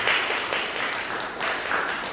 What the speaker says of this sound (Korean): 축하의 박수 한번 해주시기 바랍니다.